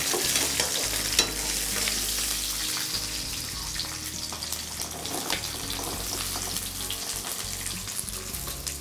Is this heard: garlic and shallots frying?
yes